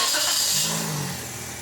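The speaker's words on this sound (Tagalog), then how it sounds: "Pa-start ko na itong makina." A Toyota Vios engine that runs rough cranks and catches, a brief rising mechanical roar settling into a steady run, close and loud.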